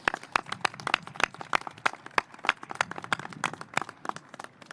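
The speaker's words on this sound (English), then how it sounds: "Let's give them a round of applause and thank them." Hands clap in a steady, scattered patter of applause from a small audience at a mayoral press conference, the claps fairly close and sharp, with no voices over them.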